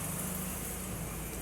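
A Nissan S13 hatch with an SR engine idles steadily at about 900 RPM, producing a constant low engine hum with a faint hiss, even and unbroken throughout.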